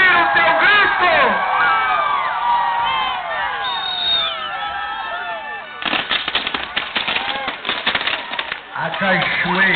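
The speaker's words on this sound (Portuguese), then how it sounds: "solta o seu grito de fé. Eu quero ouvir o teu grito." A crowd at a bonfire and fireworks festival in Paulicéia, São Paulo, shouting and cheering loudly, with a burst of crackling pops and bangs in the second half.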